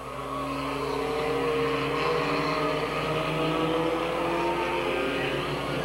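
Race cars at Midvale Speedway roar together in a steady, dense engine drone, sustained at high volume throughout as the pack charges around the oval.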